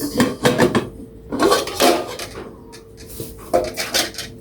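A large cooking pot being unboxed and handled, with close metallic clanks, scrapes and knocks in irregular bursts, loud and near, with no talk over them.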